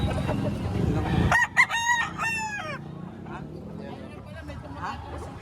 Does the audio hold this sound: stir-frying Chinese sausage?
no